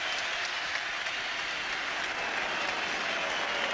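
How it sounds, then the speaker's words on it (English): Heavy rain falls on a football stadium during an Arsenal versus Tottenham Division One match, a continuous dense hiss mixed with distant crowd noise, steady and unbroken throughout. "Well, the players now welcomed by very heavy rain."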